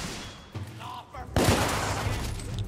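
Gunfire from The Order: 1886 erupts midway as a loud, sustained burst of rapid shots, following a few seconds of quieter game ambience and a short voice.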